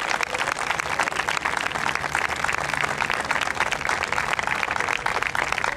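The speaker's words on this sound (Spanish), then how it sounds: "Dele un aplauso de victoria al Señor" A church congregation claps steadily at a first-anniversary service in Manzanillo, a dense, even patter of many hands continuing for several seconds without speech.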